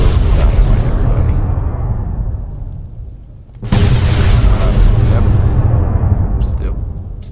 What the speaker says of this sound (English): More boom. Goes the dynamite, everybody.